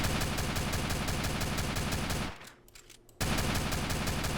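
Sustained rapid automatic fire from a drive-by weapon in SAMP, a loud continuous stream of shots that breaks off briefly, then resumes at full volume.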